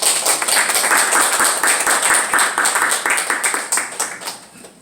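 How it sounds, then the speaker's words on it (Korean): A church congregation applauds to welcome a pastor of a New York church to the pulpit, with steady, dense clapping from a sizable crowd that holds strong throughout and tapers slightly at the end. "우리 한번 박수로 한번 맞아주시면 고맙겠습니다."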